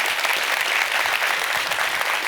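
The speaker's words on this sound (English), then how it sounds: "let's give another big round of applause for Ian." An audience claps steadily through a talk-session break at a World of Warcraft anniversary event, loud dense applause filling the whole stretch without voices on top.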